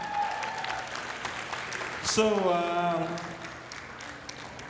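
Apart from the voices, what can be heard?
audience applause at a gala dinner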